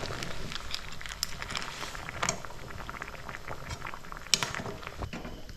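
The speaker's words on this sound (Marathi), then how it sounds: "आता उकळी फुटायला सुरुवात झालेली आहे" A crab curry with peanuts boils in a pot, a steady close bubbling and popping that goes on without pause, with a few faint clinks.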